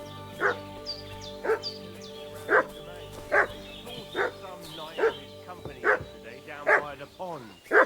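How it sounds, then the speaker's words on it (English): A dog in Kingdom Come: Deliverance II barks in steady, loud, repeated bursts, about nine evenly spaced barks over game ambience with faint birdsong. "What's that dog making such a fuss about?"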